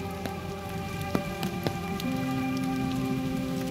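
Rain falls steadily in a forest near Kolkata, a soft, continuous patter broken by a few sharper drips striking nearby surfaces.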